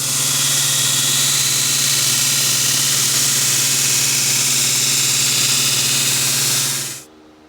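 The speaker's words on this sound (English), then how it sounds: "I'm probably just going to take it to the grinder with a 40 grit and hog all this crap off." A belt grinder fitted with a 40 grit belt sands a kydex sheath. It makes a loud, steady whirring hiss with a constant motor hum for about seven seconds, then cuts off abruptly into near silence.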